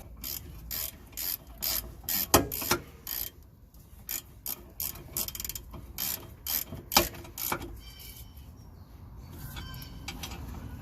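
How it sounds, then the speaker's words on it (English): Ratchet wrench tightening the larger brake bolts on a BMW E36 M3 brake upgrade, a series of quick clicking bursts in uneven spurts, close and moderately loud, alone without speech. "We'll torque these down to spec."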